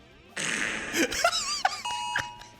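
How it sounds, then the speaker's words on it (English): A comedic fart sound effect soaked in reverb, as if released inside a church: a long buzzy blast followed by squeaky, wavering pitch bends and short bursts, each trailing off into an echoing decay. "That one's called Fart with Reverb."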